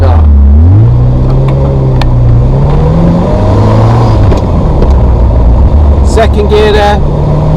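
A Ferrari 348 drives with its engine humming close up and rising in pitch as it pulls away, then holding a steady drone with small shifts in revs. Someone talks over the engine noise throughout.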